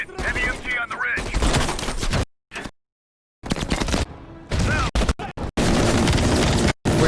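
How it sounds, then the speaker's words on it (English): Heavy machine gun fire in a combat video game, loud bursts and booming shots filling most of the stretch with brief silent gaps, mixed with explosions and talk. "Heavy MG on the ridge."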